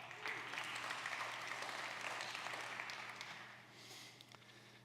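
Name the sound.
conference audience applause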